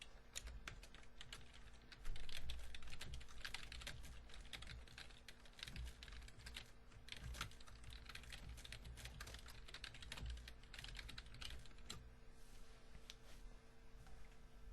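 Rapid, steady clicking of computer keys as someone types a Python code comment. The close, dense keystrokes run continuously with no pauses and no voices.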